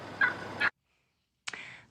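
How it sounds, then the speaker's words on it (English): Wild turkeys gobbling outdoors in California, two rapid nearby gobbles, then a short silence and another loud gobble, with no voices. "But the wild turkeys are sitting out the celebration."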